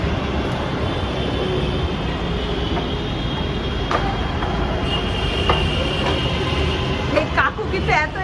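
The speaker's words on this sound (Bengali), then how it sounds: "এই মাত্র ট্রেনটা ছেড়ে গেল" A metro train on the New Garia to Ruby line pulls out of the station with a steady rolling rumble, faint wheel squeals and clicks near the end, over background station noise.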